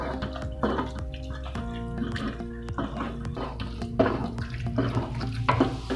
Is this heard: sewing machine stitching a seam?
no